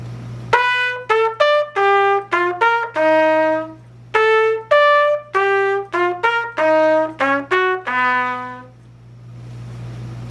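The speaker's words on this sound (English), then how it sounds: "So here's the way I play it on the trumpet." Solo trumpet plays a line over a tune's chord changes, descending on the major chords and ascending on the ii–V movements. Short and sustained notes alternate in phrases over a steady low hum.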